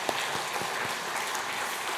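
A church congregation gives brief, scattered applause during a Sunday service, a few distinct claps over a steady patter, fairly quiet and with no voices.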